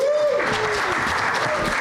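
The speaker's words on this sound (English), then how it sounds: "I was thinking about the old-fashioned round of applause." Audience applause at a conference talk on game promotion, a dense round of clapping from a seated crowd that carries on steadily at a fair distance, with a brief tone sounding over its start.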